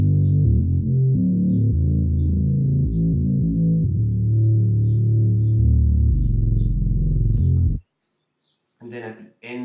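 Heavy distorted bass rumbles loud and sustained for nearly eight seconds, a gritty low synth drone with shifting notes, then cuts out to brief silence before a short burst of brighter sound.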